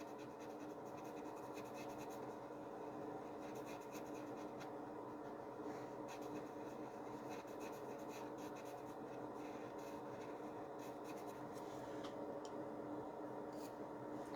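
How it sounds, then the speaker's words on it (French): A pencil shades on paper with continuous faint scratching and rubbing strokes, close and quiet, going on without a break. "plus vous allez appuyer, plus vous avez saturé votre papier en crayon"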